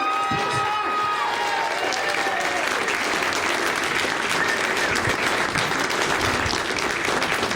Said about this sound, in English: So give it up, big applause for my Congressman.